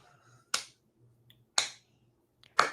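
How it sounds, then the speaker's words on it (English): Three slow, widely spaced sharp claps, about a second apart and fairly close, a quiet sarcastic golf clap over near-silence. "Little golf clap"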